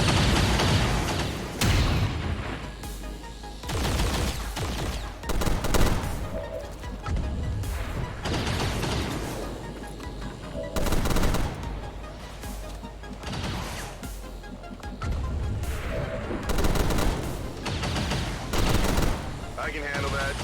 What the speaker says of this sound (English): you start shooting at that pylon